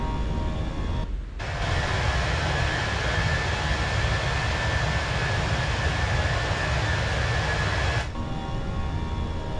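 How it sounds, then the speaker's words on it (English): An Airbus A320 nose wheel still spinning after takeoff in the Fenix flight simulator, a thin steady whine held over a constant broadband cockpit rumble that briefly drops out twice. "Do you hear that nose wheel turning?"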